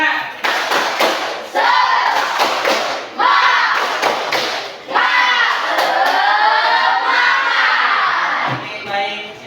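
A school class performs a rhythmic spirit clap chant, with loud, close bursts of clapping and shouted voices in repeated phrases that fill the room.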